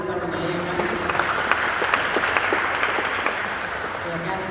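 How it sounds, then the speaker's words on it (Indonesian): An audience claps for church lectors at an adult-category church lector competition, a moderate, fairly even round of applause with a voice speaking over it. "tepuk tangan untuk lektornya"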